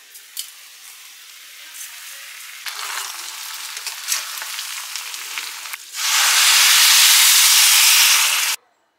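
Washed Gobindobhog rice is tipped into sizzling masala in a pan and stirred, with scattered clinks and scraping over a frying hiss that rises into a loud, steady rush of sizzle before cutting off abruptly.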